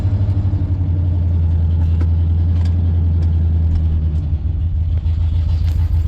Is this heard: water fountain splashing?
no